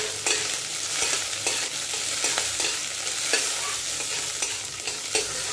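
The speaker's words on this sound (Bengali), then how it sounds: "বাদামগুলো একটু ভালো করে ভেজে নেব।" Peanuts frying in mustard oil with chillies, stirred in the pan: a continuous dense sizzle with repeated scraping strokes of a spoon, close up and steady, with no talking.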